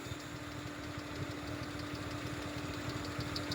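A misfiring engine idles steadily with a rough, uneven knock and a constant low hum, heard close up with no voices.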